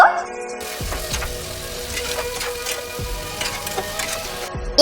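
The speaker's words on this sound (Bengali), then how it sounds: "এবারে আমি মাংসটা দিয়ে ভালোভাবে নেড়ে নিব" Mutton pieces are tossed into masala and stirred, giving a close, steady frying hiss with a few heavier thuds and scrapes as the meat is turned in the pan.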